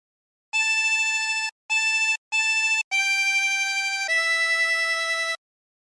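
Harmonica plays the Holy Holy Holy Lord God Almighty phrase as five clean sustained notes: three short repeated tones, then two longer ones stepping downward, loud and alone.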